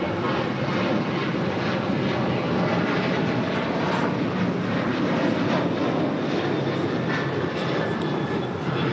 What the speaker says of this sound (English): This is Alaska Airlines 1315 taking off to Portland, Oregon